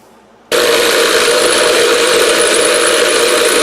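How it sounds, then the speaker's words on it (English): A tumbler suddenly starts and runs steadily, churning sockets and cleaning media in a shop with a loud, constant rattling whir. "I'm getting a better turnover ratio inside the tumbler"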